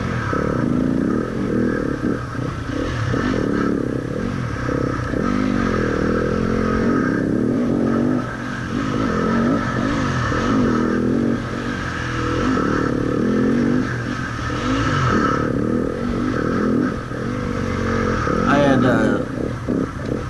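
Dirt bike engine at a 2017 Evergreen Hare Scramble race, a close, throaty motor revving and surging in uneven bursts, with clattering and scraping mixed in and people talking over it.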